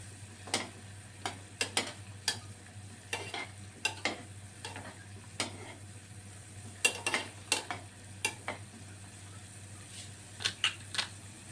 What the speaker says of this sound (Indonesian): kita masak sampai dagingnya matang